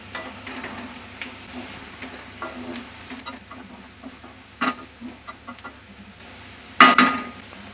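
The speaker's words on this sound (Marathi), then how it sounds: "चला, आता ही भाजी आहे ना आपण ठेवलेली मेथीची, ती सुद्धा परतून घेऊया।" Onion and fenugreek greens sautéed in a pan, a soft steady sizzle with light stirring taps throughout and a sharper scrape of the spatula near the end, clucking chickens faintly in the background.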